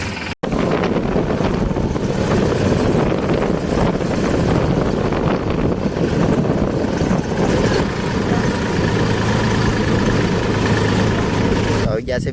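A tractor engine runs loud and constant while the tractor travels out to farm fields in Kutch, heavy wind buffeting the microphone throughout with no break.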